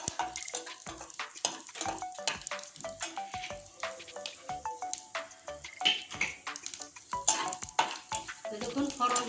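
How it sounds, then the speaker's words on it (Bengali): Cumin seeds crackle and pop in hot oil in a pan, with stirring scrapes and clinks mixed into the close, busy spluttering. "জিরে ফরন দিয়ে দিচ্ছি আমি ফরনটা আমি সুন্দর করে ভেজে নেব"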